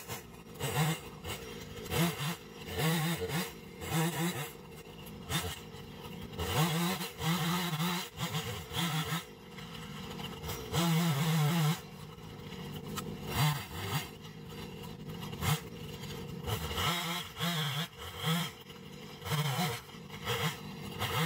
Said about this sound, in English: Let's get the tractor turned around and do some work.